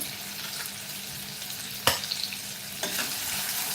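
Onion sautéing in a pan for a wet jawla shrimp vegetable dish makes a continuous close sizzle, with occasional spoon scrapes and clinks against the pan and no talking.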